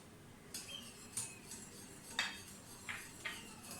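A spoon stirs pasta salad with mayonnaise and black pepper, along with fruit, vegetables and chicken, in a bowl, making five or six light, separate clinks and scrapes of metal on the dish over a quiet background.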